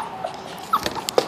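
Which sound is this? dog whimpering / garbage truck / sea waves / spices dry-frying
dog whimpering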